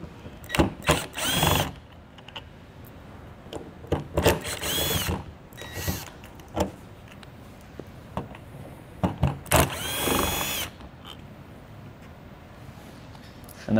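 A power drill backs screws out of an old entry door lock on a horse and utility trailer, several short loud whirring bursts separated by pauses, with brief clicks and handling noise in between.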